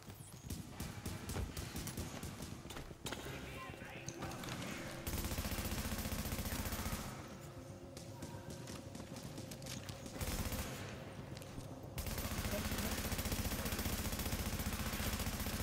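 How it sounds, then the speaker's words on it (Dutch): Video game gunfire with rapid bursts and volleys of shots, loud and continuous, overlapping with galloping hooves and other game effects. "Oh, ze schieten met verstoringskogels."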